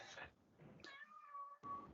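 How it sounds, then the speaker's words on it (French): A cat meows with a drawn-out, tonal cry heard close but fairly quiet during an indoor conference, with people talking in the room around it. "Il a faim, le chat."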